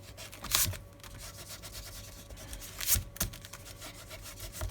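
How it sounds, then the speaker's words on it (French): An eraser rubs on paper with soft, close scrubbing strokes and two brief louder swipes, the rhythm steady against quiet background hum. "Je vais venir gommer quand même"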